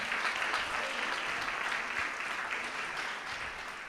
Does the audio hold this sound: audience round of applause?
yes